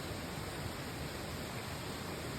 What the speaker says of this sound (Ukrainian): Це водоспад.